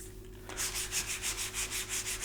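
Hand sanding of primer to smooth it, a close, steady back-and-forth abrasive rasp repeating in an even rhythm of about eight strokes after a quiet start, with no talk.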